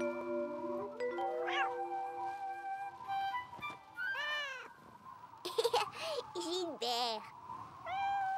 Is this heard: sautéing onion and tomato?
no